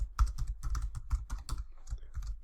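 Brisk, close clatter of keys as a password is typed on a computer keyboard, a quick uneven run of clicks and taps with no voices.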